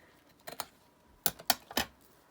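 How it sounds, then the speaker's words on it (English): Scissors snip paper for a taperology collage with vellum focal pieces, heard as five or six short, close crisp cuts in two small clusters with quiet gaps between and no talk. "let's snip that down"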